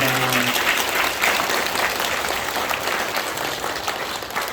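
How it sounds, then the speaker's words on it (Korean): A church congregation gives warm applause during an elder ordination service at a 45th-anniversary celebration; after a brief tonal note at the start, the clapping stays loud, dense and continuous throughout. "박수로 축복하도록 하겠습니다."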